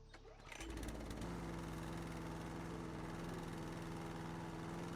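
A lawn mower in the House Flipper video game starts up and then runs at a steady, buzzing chug, close and constant with no talk over it.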